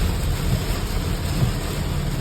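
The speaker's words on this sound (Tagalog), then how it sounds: "Fishing sana tayo, kaso mo nasalubong natin yung malakas na ulan." Heavy rain falling around a fishing boat on rough water off Saipan, a dense, steady wash of noise heard close and continuous, without voices.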